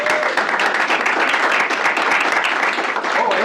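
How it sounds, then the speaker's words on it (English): Audience at a stakeholder meeting breaking into sustained, lively applause, many hands clapping steadily and loudly without pause. "let's first of all give a round of applause to Amber Hattie."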